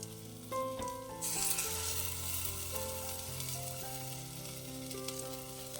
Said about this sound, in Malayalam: ഇനി ജാറിൽ കുറച്ച് വെള്ളം കൂടെ ചേർത്തിട്ട് അതോടെ ഒഴിക്കാം.